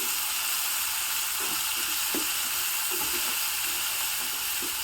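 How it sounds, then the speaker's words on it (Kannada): Sprouted moong beans fry in a hot tempering of oil, giving a steady, even sizzle with occasional soft scrapes of stirring, close and continuous. "ಮೊಳಕೆ ಬರ್ತಿರೋ ಹೆಸರು ಕಾಳನ್ನ ಹಾಕಿಬಿಟ್ಟು ಸ್ವಲ್ಪ ಬಾಡಿಸ್ಕೊತಾ ಇದ್ದೀನಿ"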